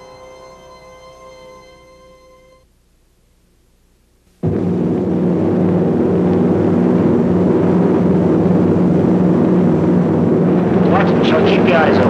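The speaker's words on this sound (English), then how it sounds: "Planes 9 o'clock coming around." World War II aircraft roar overhead as a loud, sustained engine drone that fills the air after a quiet lead-in, with voices talking briefly at the start.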